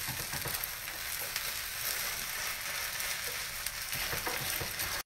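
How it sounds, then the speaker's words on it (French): Rösti potato galette shaped into a round cake frying gently in a pan, a steady close crackling sizzle filling the whole stretch with a few brief sharper pops. "Cuire gentiment pendant 4 à 5 minutes de ce côté-là, histoire que ça colore."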